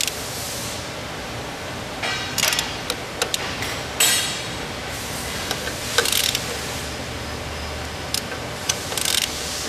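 A 9/16 socket wrench loosens bolts on corn planter plates, giving scattered metallic clicks and clanks over a steady noisy workshop background, near and moderately loud.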